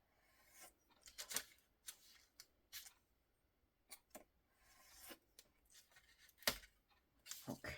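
Scissors cutting paper to make a window envelope: faint, irregular snips and crisp paper rustles, some in quick pairs and some spaced apart, heard close in a quiet room.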